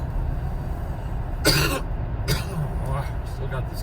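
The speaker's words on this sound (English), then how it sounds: "still got this cough" Two sharp, close coughs from a man, spaced about a second apart, break through a steady low background rumble.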